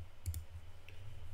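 A Forge of Empires St. Patrick's event from 2024, with two quick, faint mouse clicks close together over a steady low hum and no voices.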